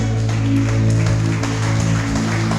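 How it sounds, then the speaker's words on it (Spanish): A church congregation claps loudly and steadily throughout, the dense applause layered over sustained keyboard or organ chords. "Dale ese aplauso grande al Rey"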